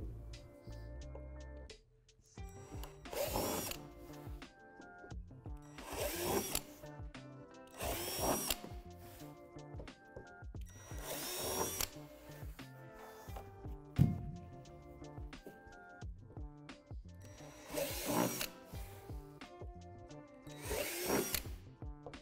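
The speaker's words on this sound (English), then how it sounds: "drill out 4 holes in these locations." A power drill bores holes into the back of a plastic climbing wall on a Lifetime Adventure Tower Deluxe playset, about eight short whirring bursts separated by pauses, close and fairly loud with no talking.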